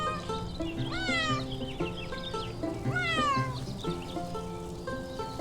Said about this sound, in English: Farm cat says meow and keeps the mice away.